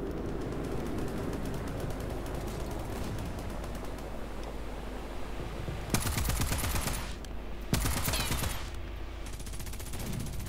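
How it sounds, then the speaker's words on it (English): Naval gunfire from a 75 mm gun in the War Thunder naval battle game, with heavy booming blasts near 6 and 8 seconds rising over a constant roar of engines and continuous gunfire. "that's not an artillery, that's a fucking 75"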